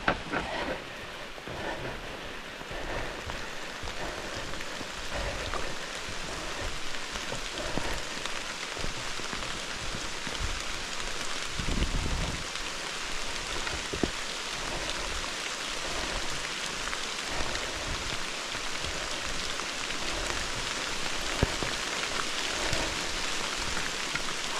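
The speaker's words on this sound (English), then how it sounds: "I think it's raining harder." Steady autumn rain patters on surfaces around a canoe campsite, a dense continuous hiss with occasional heavier drops, close and even throughout, no voices.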